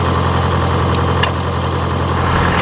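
A farm tractor's engine idles steadily with a constant low rumbling drone and faint mechanical vibration, close and loud, with no speech over it.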